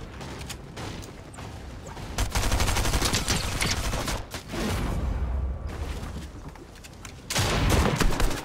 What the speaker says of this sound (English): I've just been sprayed by the LMG